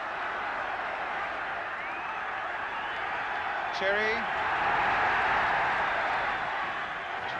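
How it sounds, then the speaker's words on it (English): Dense roar of a noisy stadium crowd at a football match, a steady loud wash swelling slightly toward the end, with a commentator's voice and a whistle-like call briefly audible over it. "Tremendously noisy crowd"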